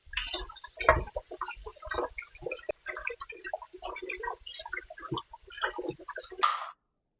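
Running water rinses oxtail pieces for Jamaican stew peas, a close, uneven splashing and dripping with irregular bursts and brief pauses, ending in a louder gush before cutting off.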